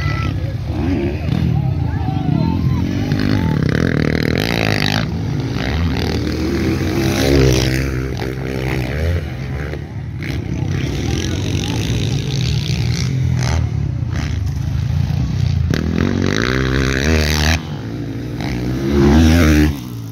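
Enduro motorcycles in an open pro semi-final race rev and rasp at varying distances, engine notes rising and falling, with people talking loudly over the racing noise most of the time.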